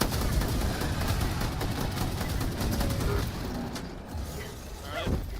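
Rapid gunfire from a video game crackles continuously across the scene, dense bursts of shots layered under faint background noise, easing slightly toward the end with a few chirpy effects.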